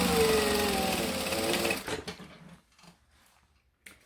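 A sewing machine runs steadily for nearly two seconds while top stitching the outer pieces of a fabric bag, then stops, leaving faint handling noises.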